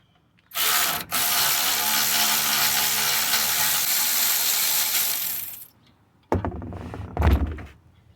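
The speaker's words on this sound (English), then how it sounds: "14mm wrench here to grab it from here." A wrench ratchets loose a 14mm sway bar bolt, giving one long, loud, close run of rapid clicks that stops abruptly, then a shorter burst and a clunk.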